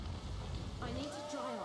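Rain spell cast in Divinity Original Sin, a soft steady hiss of falling rain with a rising whooshing tone layered on top partway through, faint and continuous.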